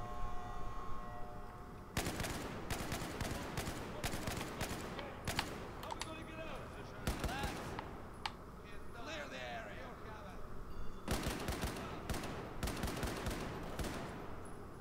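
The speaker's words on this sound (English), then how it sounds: "I'll at least put this on burst fire" Burst-fire gunshots in Battlefield 4 on Xbox One, sharp clusters of shots in repeated bursts across the scene, with someone talking over the gunfire.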